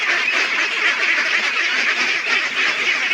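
Hungry pet ducks crowd together at feeding time, a dense continuous chorus of loud quacking and honking calls without pause.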